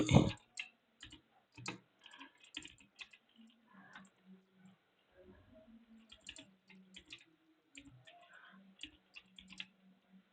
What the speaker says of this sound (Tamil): இப்போ நான் வந்து டைப் பண்ணுறேன்.